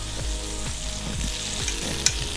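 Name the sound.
food sizzling in a frying pan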